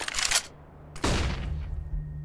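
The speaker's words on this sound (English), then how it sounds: "And look at Ace trying to get lucky with a shot on Viali from the ladder." Gunfire from Counter-Strike: Global Offensive during a tournament match: two sharp, loud shot bursts about a second apart, each trailing off quickly, with no commentary over them.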